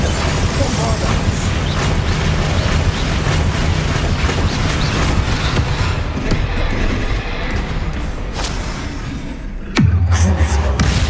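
Confringo and Bombarda blasting spells are cast in a Hogwarts Legacy battle, producing heavy, sustained booming explosions and bursts under dense combat noise, with a sharp deep thud near the end; talk is mixed in.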